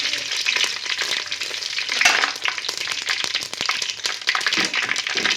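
Cumin and mustard seeds crackling and spitting in hot oil in a pan, a dense, steady sizzle with sharp popping bursts throughout, close and loud.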